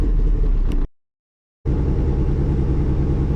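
A tuned Audi TT with an AEM V2 engine management unit runs loud and close, its steady engine rumble broken by a sudden cut to silence before it restarts and carries on running evenly.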